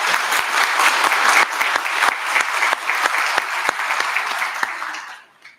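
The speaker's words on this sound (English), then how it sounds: "Can we give the three of them a round of applause?" Steady applause from an audience at a college honors convocation, a dense wash of clapping that carries on evenly for several seconds before fading out.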